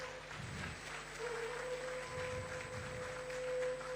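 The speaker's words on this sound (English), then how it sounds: "Ladies and gentlemen, please let's put our hands together." Audience applause at a heads of missions conference in Ghana, a steady, moderately distant clapping wash under a sustained tonal hum, with faint voices mixed in.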